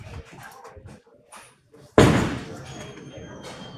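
A bowling ball crashes into the pins at a casino bowling alley, one loud sharp impact followed by a ringing, clattering decay, after quieter lane noise and distant chatter.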